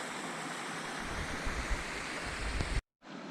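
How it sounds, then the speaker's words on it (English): Close-up waterfalls spilling over Ledge Lake on the Uinta Highline Trail roar as a steady, loud broadband wash of falling water, continuous and unbroken until a brief cut near the end. "here's the close-up of the waterfalls over Ledge Lake"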